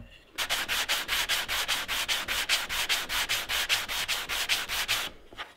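A hand saw cuts a wooden plug flush on a wooden box. It makes a steady run of about twenty quick, even, rasping strokes, close and loud, with no voices.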